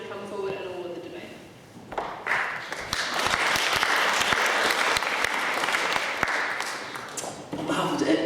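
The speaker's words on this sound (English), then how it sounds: "So one more round of applause, please." An audience at a debate grand final breaks into sustained applause, dense clapping swelling after a moment of talk and carrying on loudly, with a voice heard briefly at the start and end.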